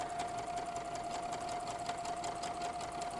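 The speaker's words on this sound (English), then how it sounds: "and then I'm going to sew this one" A sewing machine stitches quilt squares together for a wall hanging, with a faint, steady, rapid whir running without a break and no voices.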